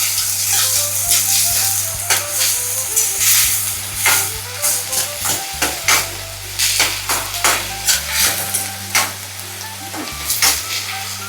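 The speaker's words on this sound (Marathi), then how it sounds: "आणि छान असं आपण एकदम व्यवस्थित परतून घ्यायचं आपल्याला ही भाजी." Vegetable with asafoetida sautéed in a pan, loud close sizzling broken by repeated scraping and clinking stirring strokes of a spatula, no talking.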